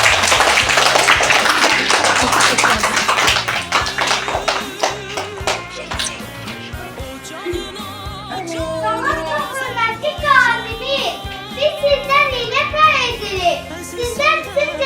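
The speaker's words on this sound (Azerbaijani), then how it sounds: "Valla alqışlayın." Classroom applause for a guest in a school, a burst of clapping from children that fades out around halfway through as musical tones take over.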